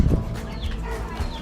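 Chickens clucking in a Himalayan village along the Annapurna Circuit in Nepal, a dense rustle of short fowl calls over low outdoor ambience at moderate loudness.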